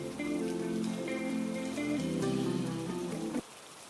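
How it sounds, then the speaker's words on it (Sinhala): Rain falls on a house in an animated story, a steady patter on the surface that runs for a few seconds under a soft musical backdrop, then drops away abruptly. "ගෙට වතුරේනෝ වැස්ස පටන් අරන්."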